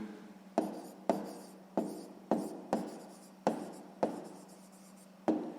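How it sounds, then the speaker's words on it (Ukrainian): A pen writing an answer on paper, close and quiet, with eight short scratchy strokes in an uneven rhythm, each fading quickly, no talking heard. "Записуємо відповідь."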